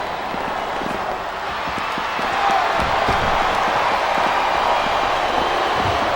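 A wrestling arena crowd roars and chants loudly and without a break, with sharp claps and stomps scattered through it. The noise swells further about halfway through.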